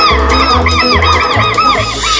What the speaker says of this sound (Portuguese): Os quero-queros dão o alerta quando alguém se aproxima.